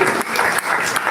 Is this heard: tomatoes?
no